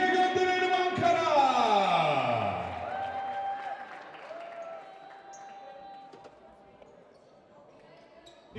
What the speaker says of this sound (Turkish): Takımımız sahada kocaman alkışlarla ikinci yarıya gönderelim Ankara!